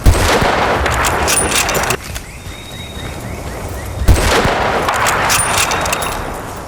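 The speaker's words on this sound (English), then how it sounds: "Now you're going to practice firing, strafing from left to right." A rifle fires in rapid automatic bursts while strafing in the video game Bad Company 2, loud crackling volleys with a quieter pause in the middle before firing resumes.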